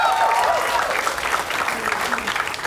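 Game show audience applauding at the end of a round, a dense, loud burst of clapping that carries on steadily with a little crowd noise mixed in.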